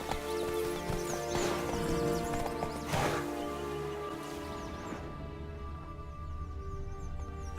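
Roach, Geralt's horse in The Witcher 3: Blood and Wine, trots with steady clip-clop hoofbeats and faint harness jingle, close and fairly loud over a game music bed, with a neigh-like swell partway through.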